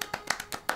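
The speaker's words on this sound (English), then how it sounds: "Everybody clap for Matt." A few people clapping hands close up, about six sharp, uneven claps in quick succession, short and dry with small gaps between them.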